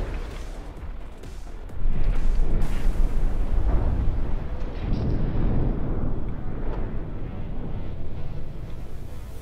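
Missile explosions boom during a video game boss battle, a dense, rumbling roar with a sudden loud onset, sustained by continuous blasts and noisy debris for several seconds.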